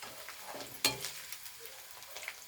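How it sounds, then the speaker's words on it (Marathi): Onion frying in a pan for a dried prawn curry, a soft sizzle under intermittent stirring scrapes, with one sharp clink of the spoon against the pan early on. "कांदा एकदम परतून घ्यायचा आहे, नरम करून घ्यायचा आहे, गोल्डन ब्राऊन असा."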